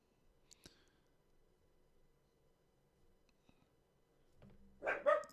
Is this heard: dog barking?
yes